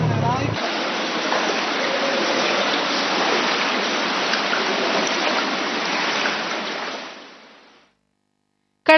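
River water pours downstream after release from the Tungabhadra dam near Ballari during heavy rains, a steady broad roaring rush that fades out toward the end.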